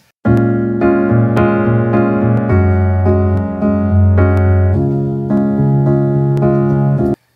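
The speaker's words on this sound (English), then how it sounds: "So I started with this kind of nostalgic piano loop." Nostalgic piano loop in a pop chord progression, sustained chords changing every second or so with steady pulsing repeated notes, loud and close with no talk.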